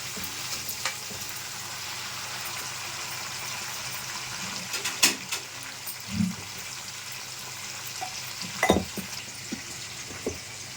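Tomatoes fry in a pan until soft, a steady low sizzle broken by a few louder stirring scrapes and clinks, close and moderate in volume with no talk.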